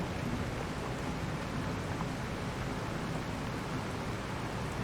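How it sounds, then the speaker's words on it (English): Steady rain falls in Farming Simulator 22, a dense, even hiss of drops on surfaces that holds at one level throughout with no voices. "It's gone 4 o'clock and it's still raining at 4 o'clock."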